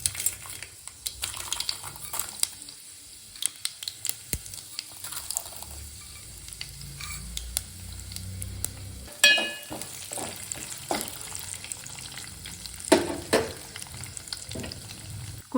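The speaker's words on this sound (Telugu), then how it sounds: "ఇప్పుడు ఆ ఆయిల్లోనే పోపు దినుసులు వేసేసుకోవాలి" Tempering spices hit hot oil in a pan and crackle with a soft sizzle, broken by clinks and scrapes from a metal spoon against the cookware, all close and fairly quiet with no voices.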